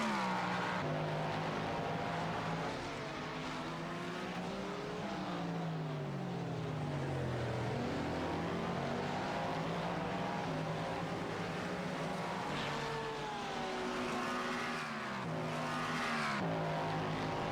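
Race cars in an endurance racing video game at Hockenheim, engines whining and shifting pitch as they pass and accelerate, a continuous loud drone with rising and falling tones and no talking.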